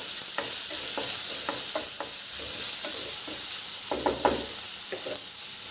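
Crushed ginger, garlic, green chili and sliced onion stir-frying in a pan, a constant close sizzle punctuated by irregular spatula scrapes and knocks.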